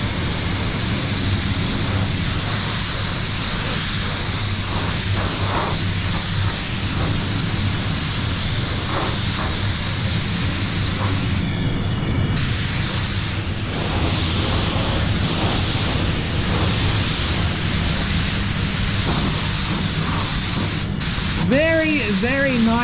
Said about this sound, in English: Very, very nice spray gun.